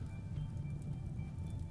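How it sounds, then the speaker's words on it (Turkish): Rain falls in the colony-building video game Rimworld, a soft steady patter with a low rumbling wash underneath, faint and continuous, with no voices. "Ah, yağmur yağıyor."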